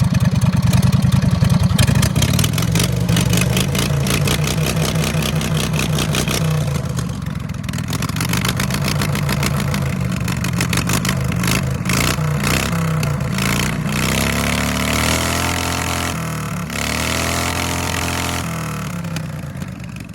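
A mud mower's engine roars loud and close, revving hard up to its rev limiter with a rough, clattering tone that wavers and surges again and again throughout.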